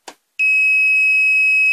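A digital multimeter's continuity buzzer sounds as a steady, loud, high-pitched beep while testing a shorted LED bar module, preceded by a brief faint click of the probes touching.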